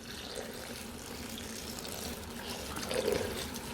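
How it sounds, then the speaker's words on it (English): Water is poured into a pot of Nigerian fried rice seasoned with curry, pepper and onions, a steady nearby trickling and splashing that swells briefly toward the end. "You add the water."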